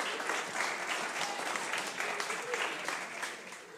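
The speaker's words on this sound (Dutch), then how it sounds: "En bedankt voor jullie bemoedigende applaus" Steady, dense applause from a church congregation at Christengemeente Buitenpost fills the whole stretch, close and even, easing slightly at the very end.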